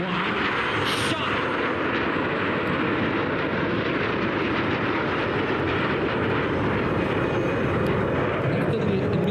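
Frecce Tricolori jets roar through an aerobatic display, a loud, steady, broad jet rush that fills the whole stretch without letting up, with a commentator talking over it.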